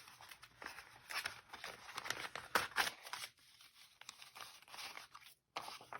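Cash is pulled out of paper envelopes close by, with soft, irregular crinkling, rustling and tearing of paper and a few brief pauses, quiet and with no speech.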